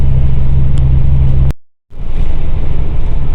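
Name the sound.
Ford V10 Econoline van engine at low RPM while towing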